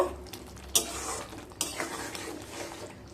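A spoon stirs and scrapes through spiced chichinga malai curry in a pan, with two sharp clinks against the metal over a soft background of light sizzling, no voices.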